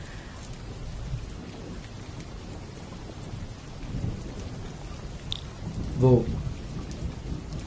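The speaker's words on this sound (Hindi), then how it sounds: "बाहर इतनी बारिश हो रही है ना" Heavy rain pouring steadily outside with thunder rumbling underneath, a dense hiss throughout and a louder crack-like burst near the end; a voice speaks briefly.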